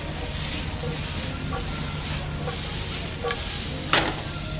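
Zucchini fries in a pan, browning as it cooks, with a steady sizzling hiss throughout and a few light stirring scrapes, one sharper clack near the end; no one speaks.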